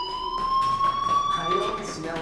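A steady, high electronic fire alarm tone rings continuously in the video game Life Is Strange, loud and unbroken, while a character speaks over it.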